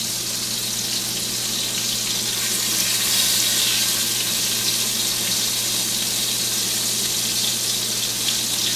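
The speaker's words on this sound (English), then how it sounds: "Now I got my fire on like really low heat, and that's how I brown all of them" Floured meatballs browning slowly in a pan over low heat give a steady, even sizzle and crackle that stays at one level throughout, with no talking.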